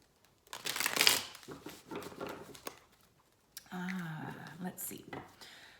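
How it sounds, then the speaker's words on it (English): Tarot cards are shuffled by hand in short, crisp riffling bursts, with a voice speaking between them. "Shuffle, shuffle, shuffle."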